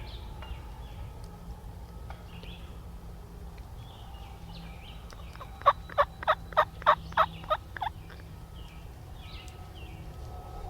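A wild turkey gobbler on a logging road gobbles in the spring woods, one rapid burst of about seven sharp pulses at moderate distance amid faint birdsong.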